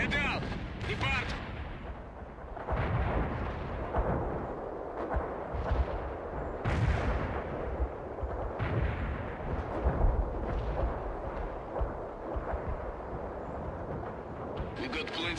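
Air strike gunfire and heavy explosions in the World in Conflict video game, repeated loud booming blasts and rumbling bursts across the whole stretch, with radio voices talking over the combat.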